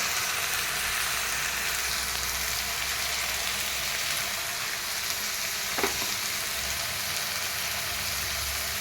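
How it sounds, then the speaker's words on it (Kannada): Chopped tomato drops into a hot tempering of oil, turmeric and curry leaves for tomato gojju, giving a steady, even sizzle throughout with one small click partway through and no voices. "ಈಗ ಟೊಮೆಟೊ ಹಾಕ್ತೀನಿ"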